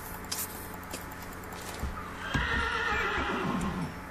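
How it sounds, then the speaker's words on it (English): Horse in the Minecraft modpack Hexxit video game whinnies loudly and close up, a drawn-out neigh over an ongoing game background, with light hoof clip-clop sounds mixed in. "These horses are really loud."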